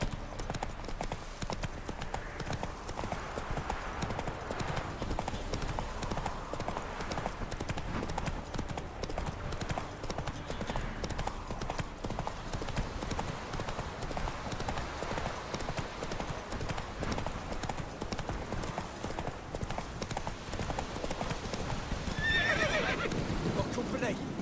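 A horse gallops in The Witcher 3 video game, its hooves clip-clopping in a fast, steady rhythm with a neigh along the way, while a voice speaks over the hoofbeats.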